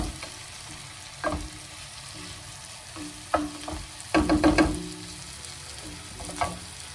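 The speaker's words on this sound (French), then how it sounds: "Donc, je vais laisser saisir, allez, maxi 30 secondes." Meat and spices sear in a hot pan for rice kabsa, a continuous close sizzle broken by several clattering stirs and scrapes, with a busier burst of stirring near the middle.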